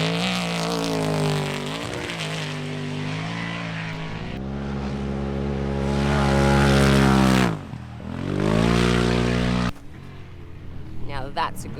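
A Patriot Campers Aussie Spec trophy truck's engine roars loud and close, its pitch climbing and falling as it revs past, briefly dropping off twice before the throttle snaps open again and then fades to a rough idle.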